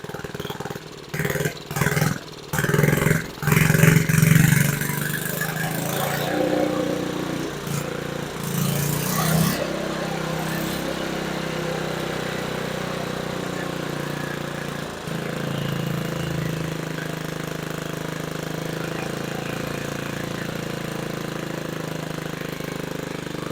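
A 1950s reel mower's small engine runs loud and close, sputtering and revving unevenly in its first few seconds, then holding a steady, slightly high idle that won't settle down for the rest of the clip.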